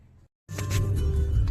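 A car eases out past a large pothole on a monsoon road, its engine and tyre rumble starting abruptly after a brief silence and holding steady, close and fairly loud with no talking.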